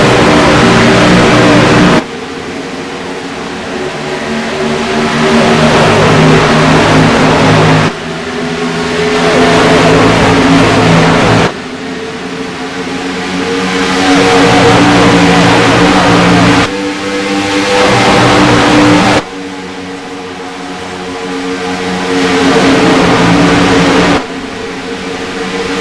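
Race cars at Atlanta Motor Speedway roar loudly after the green flag, engines repeatedly climbing in pitch through the gears in several long rising pulls, each cut off sharply as the next shift begins.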